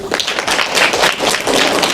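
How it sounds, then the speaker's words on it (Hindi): A group of children at an NSS camp storytelling session clap together in a brief, dense burst of hand claps, fairly close and loud, with no talk over it. "तालियां"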